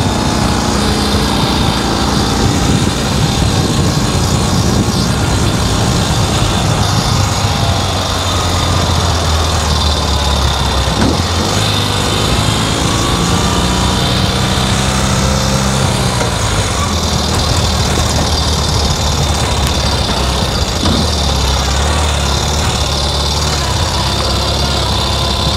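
A Ural sidecar motorcycle engine drones loudly and steadily as the rig climbs a hill, with a continuous, close, low rumble and no pauses.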